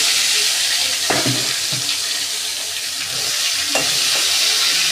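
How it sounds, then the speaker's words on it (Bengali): Snakehead fish pieces rubbed with salt and turmeric fry in oil in a wok, giving a loud, steady sizzle with occasional soft stirring knocks and no talk. "নুন হলুদ মাখানো শোল মাছগুলো আমি ভেজে নিচ্ছি কড়াইতে তেল দিয়ে।"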